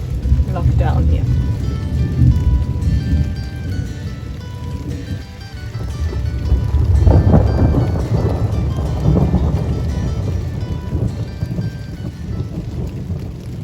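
Thunderstorm rolling over a mountain in Croatia, with loud rumbling thunder peals and steady heavy rain drumming on surfaces, the thunder swelling and fading in long waves.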